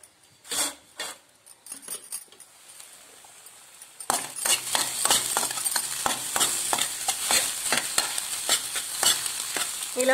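Egg fried rice being stirred in a pan, quiet at first and then a run of rapid, close scraping and clinking strokes over a steady frying sizzle.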